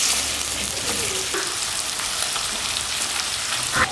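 Beef chunks sizzle in hot oil in a karahi, a dense, continuous crackling fry close by with a few sharper pops, steady throughout with no voices.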